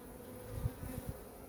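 A soft, steady buzzing of honey bees from a weak colony in a winter hive hums close by, with a few faint low thumps partway through and no talking.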